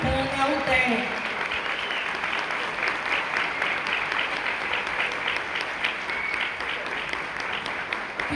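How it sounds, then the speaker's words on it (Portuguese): Warm audience applause at a gathering in Feira de Santana, Bahia, sustained dense clapping following a brief voice at the start, holding steady throughout. "Quero pedir uma salva de palmas bastante calorosa"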